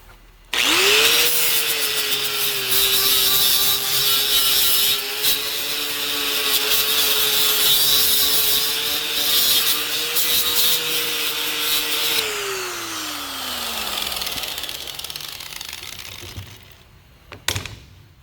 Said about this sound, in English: as you're using the angle grinder, you definitely want to make sure to get the edges and get them deburred at the same time